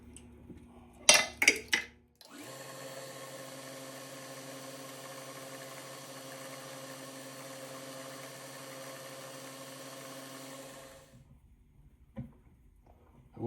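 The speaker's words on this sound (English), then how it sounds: "I can just drill down through with the tap drill" A tap drill boring a hole during hit-and-miss engine ignition-parts work: a few sharp metallic clanks, then a steady motor whine for about nine seconds that stops abruptly, followed by faint knocks.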